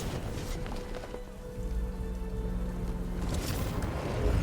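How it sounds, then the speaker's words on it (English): Steady rain pours in the Batman: Arkham Knight video game, a dense hiss of drops spattering on surfaces, with a low rumbling bed underneath that grows louder toward the end. "What's with all the rain?"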